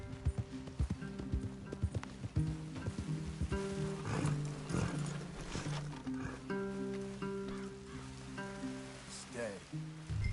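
Horses walking in the Western video game Red Dead Redemption, hooves clopping irregularly over soft ground amid a rain-like hiss, with sustained musical tones and low rumbles layered underneath.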